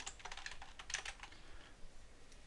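Quick, irregular keystrokes on a computer keyboard as notes are typed into trading software, a steady patter of light clicks heard close up with no voices.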